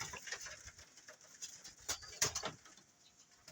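Soft, low pigeon coos close by, a few rounded murmuring calls amid faint rustling and light background noise.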